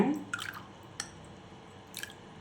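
Wet squishing and dripping sounds as water is stirred into a thick batter for potato croquettes, a few distinct wet clicks amid quiet background.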